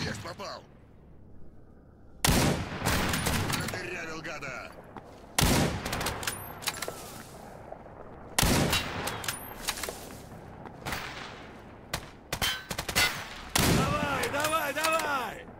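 Gunfire in the video game Stalker GAMMA, several separate volleys of sharp rapid shots, each a second or two long, with quieter stretches between them and a person talking in the gaps.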